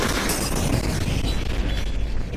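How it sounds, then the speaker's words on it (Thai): An explosion in the video game Hunt: Showdown, a loud, sustained, saturated boom that fills the whole clip with rumbling low end and no speech over it. "ระเบิดก็ระเบิด"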